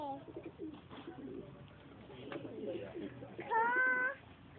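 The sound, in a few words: pigeon cooing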